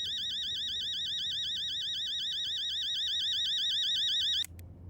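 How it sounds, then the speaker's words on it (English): A loud electronic alarm clock rings in a video game, a continuous warbling high-pitched tone that holds steadily for several seconds before cutting off abruptly, leaving quiet background noise. "It was an alarm clock."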